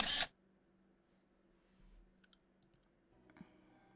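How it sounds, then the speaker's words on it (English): A camera shutter in The Sims 4 life-simulation game, one loud sharp click at the start followed by near silence and faint game sounds. "The camera shutter sound was loud as hell in my ears."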